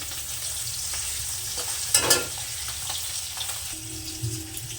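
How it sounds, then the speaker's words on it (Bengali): Parshe fish frying in hot oil, a continuous close sizzle with a sharp burst of spattering midway and soft utensil scrapes, moderately loud with no speech. "বাদ বাকি মাছটাও ভেজে নেব"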